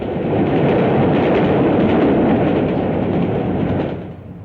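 A new British diesel multiple unit train from 1959 on suburban and cross-country service passes close by as a loud, dense roar that holds steady and then starts to fade in the final moment.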